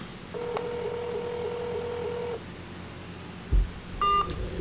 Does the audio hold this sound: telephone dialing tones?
yes